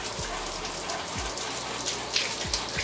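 Hot tap water runs steadily from a faucet while a bird perch is washed, a continuous hiss with small splashes and a few low thumps, no voices.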